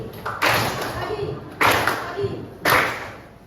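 A group claps together in a counted call-and-response clapping game, producing three sharp, loud bursts spaced about a second apart. Each burst trails off quickly, with quieter room sound in between.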